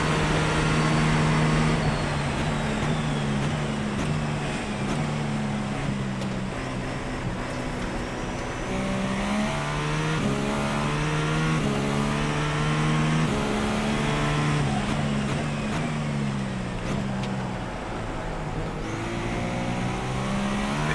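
Racing car in a sim racing game accelerating out of a horseshoe corner onto banking on a first lap, its engine note rising and shifting through gears, loud and continuous throughout.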